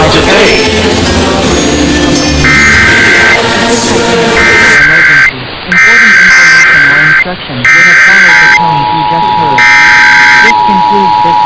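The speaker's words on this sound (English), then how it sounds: "This is a test of the emergency alert system, originated by the Arizona Department of Public Safety." Emergency Alert System test from the Arizona Department of Public Safety on an FM radio broadcast: a loud steady alert tone sounding in repeated bursts, with a continuous tone joining near the end, over music and talk.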